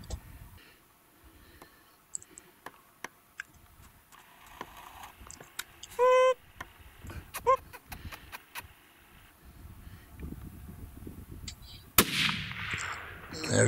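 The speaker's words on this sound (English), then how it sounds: "I don't see him, so I'm gonna shoot him. Just go ahead and shoot." Rifle fired at a coyote in brushy country during a hunt, a single sharp loud report near the end after quieter scattered clicks and rustling, with brief faint speech earlier.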